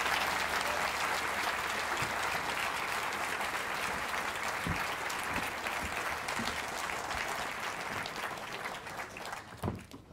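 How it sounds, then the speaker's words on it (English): Sustained applause from a theatre audience for a finalist at an international science-communication final, a broad, even wash of clapping that holds steady and tapers slightly toward the end, with no talking. "be upstanding, or at least be applauding for Joanna Bagniewska"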